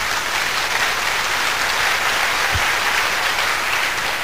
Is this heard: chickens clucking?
no